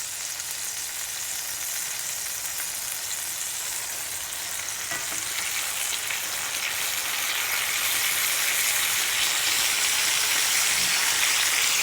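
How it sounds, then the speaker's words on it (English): A skillet heating up to sear steak gives off a steady, close frying sizzle that grows slightly louder over about twelve seconds, with no voices. "I'm heating up the skillet."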